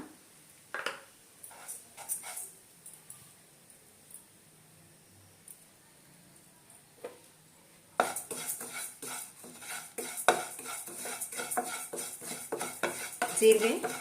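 A spoon stirs mustard seeds and cumin frying in a little oil in a pan. Faint scrapes and clinks come first, then a denser, louder stretch of sizzling and metallic stirring.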